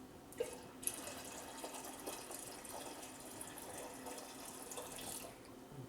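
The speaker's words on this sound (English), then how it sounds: "I'm going to go ahead and add in some water to bring us up to the mark." Water poured into a wine fermenting bucket for strawberry ginger wine gives a steady, close splashing pour, with a couple of sharp clinks near the start and no voices.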